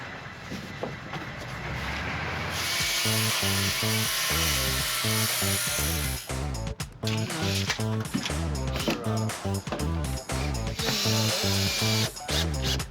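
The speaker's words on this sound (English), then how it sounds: "Just screwing in the joist hangers now." A power drill drives screws into metal joist hangers during a home renovation, in repeated loud whirring bursts with short pauses between them, close up, with no talk.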